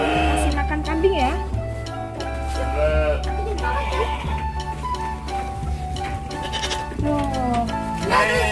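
Goats on a farm bleat repeatedly while being fed, their wavering calls overlapping amid a steady hum, with people talking throughout.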